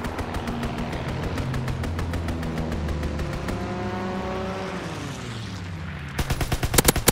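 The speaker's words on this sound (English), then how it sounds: "Fighter pilot inbound, strafing the target." Strafing gunfire from a fighter pilot killstreak in Call of Duty: WWII, a dense rapid stream of shots with engine roar and a descending aircraft whine, ending in a louder, sharper burst of close shots.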